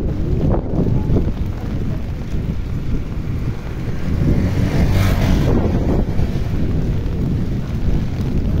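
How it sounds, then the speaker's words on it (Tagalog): Strong typhoon wind buffets the microphone outdoors, a loud, continuous roaring rush that swells and eases, with heavy rain blending into the noise and no talk. "Ang lakas ng hangin guys"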